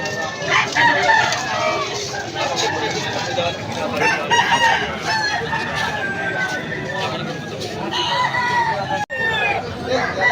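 An eight-month-old Talisay gamecock crows repeatedly at a busy Malolos, Bulacan flea-market poultry sale, with other fowl clucking nearby and people talking over a steady crowd babble.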